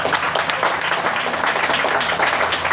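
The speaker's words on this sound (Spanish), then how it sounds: "¿Cuánto le dan un aplauso al Espíritu Santo, hermano?" A church congregation claps together in a brief burst of dense, even applause, steady and fairly loud throughout.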